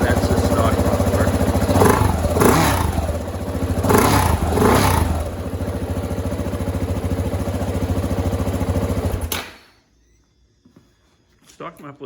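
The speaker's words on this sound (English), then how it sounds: "give it a whirl. That's the stock muffler." A 2018 KTM 690 Enduro R single-cylinder with its stock muffler idles steadily nearby, with a few short throttle blips swelling the sound before it cuts off abruptly, leaving near silence.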